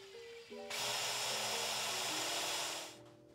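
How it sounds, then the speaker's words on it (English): Power drill boring a hole into the top of a Magic Trackpad battery, a close whirring burst that starts abruptly, holds steady for about two seconds and then stops, with quieter motor hum around it. "drill a hole in the top of the battery"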